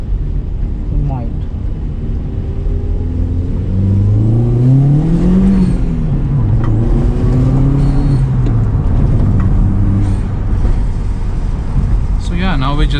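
A Mk1 Skoda Octavia vRS under hard acceleration, heard from inside the car: engine drone climbs in pitch through the gears with brief dips at each shift, loud and steady over road noise.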